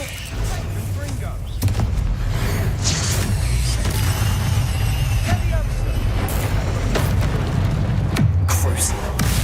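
Confringo fire blast spell exploding in Hogwarts Legacy, a sudden loud boom that kicks off sustained roaring, rumbling combat noise, with a voice speaking over the din.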